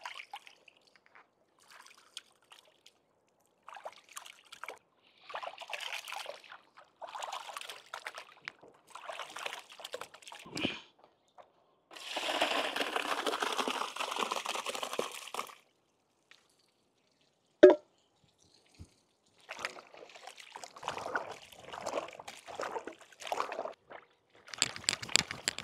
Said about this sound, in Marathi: आपण आता कपुरे व्यवस्थित धुवून घेऊ स्वच्छ पाण्याने।